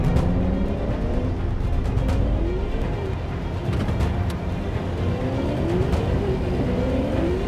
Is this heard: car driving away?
yes